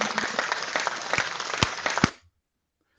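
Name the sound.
clapping sound effect in Twitter Space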